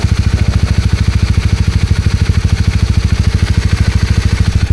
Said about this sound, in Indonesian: nih untuk suara mesin overall masih oke